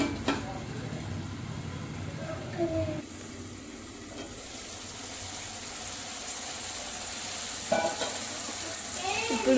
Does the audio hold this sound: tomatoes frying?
yes